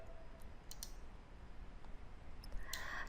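Mouse clicks on a save button in ERP accounting software: a few short, faint, sharp clicks, two close together near the start and one more near the end, over a quiet room hiss with no talking.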